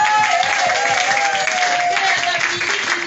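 A church congregation claps and cheers together in sustained applause, with voices and a held tone blending into the crowd noise.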